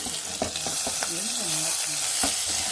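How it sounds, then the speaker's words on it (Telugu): Tomatoes sizzle and fry in a pan for tomato rice as a spoon stirs them, with steady close frying hiss and a few scraping clicks of the stirring, no talk. "టమాటాలు కూడా వేసుకొని తిప్పాను"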